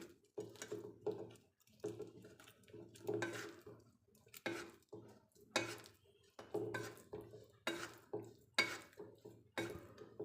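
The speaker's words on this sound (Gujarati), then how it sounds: "હવે ગોળ પીગળે ત્યાં સુધી એને આ રીતે હલાવતા રહીશું" A spoon stirs finely chopped jaggery into roasted flour in a pan for sukhdi, scraping and clinking in a steady run of short strokes, close and fairly quiet.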